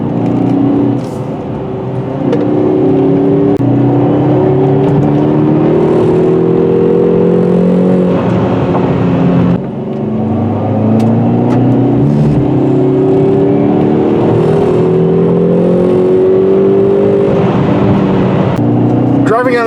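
A 2019 Hyundai Veloster N-Turbo's engine hums steadily at close range while the car drives on curvy roads, its pitch rising and falling in repeated sweeps as it accelerates out of and eases into the bends.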